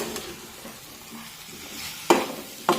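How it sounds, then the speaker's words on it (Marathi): Drumstick pods are stirred into a frying spice masala in a pan, a soft steady sizzle with two sharp clinks of a spatula against metal near the end. "आता यामध्ये या शेवग्याच्या शेंगा टाकूया परतून घेऊया"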